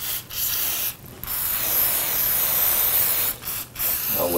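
Cleaner sprays in a long, steady hiss onto a Glock 19 pistol fouled with lead, broken by a few brief pauses, close and loud with no talking.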